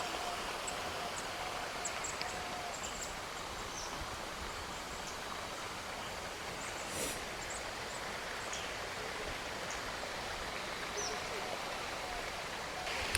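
A small waterfall beside a forest villa pours in a constant, even hiss of falling water, heard up close with a faint rustle and no talking.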